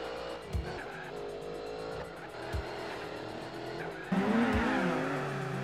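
Race cars including a Viper compete in Gran Turismo 4 in a 500hp tournament, engines droning and shifting pitch as they jostle for position, with sharp bumps and tire squeal over steady engine noise.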